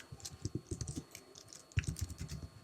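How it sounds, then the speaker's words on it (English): Someone types a name on a computer keyboard: quick clusters of light, close key clicks in two bursts separated by a short pause. "we can go ahead and type in a bucket name"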